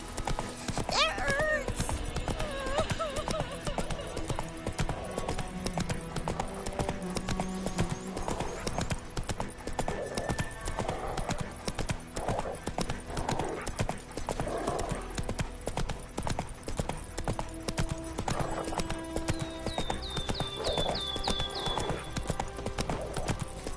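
Geralt's horse Roach in The Witcher 3, hooves clip-clopping in a steady rhythm with an occasional whinny, loud and close, with a voice briefly speaking over the game sounds.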